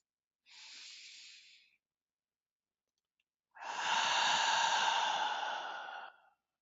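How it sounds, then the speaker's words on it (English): A deep breath drawn in and slowly let out, a short soft inhale followed after a pause by a longer, louder exhale, close and alone. "So let's take a deep breath."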